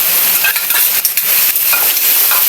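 Beef going into a hot pan for Filipino kaldereta, already cooking with chicken, gives a loud, steady sizzle and crackle that runs unbroken throughout, with a few brief clinks.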